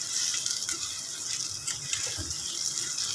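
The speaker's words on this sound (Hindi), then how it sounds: "ये देखिए मैंने जो है पानी ऐड कर दिया" Water is added to a pota karahi cooking pan, a steady close-up rush of pouring and bubbling hiss that runs for several seconds without a break, with no voices.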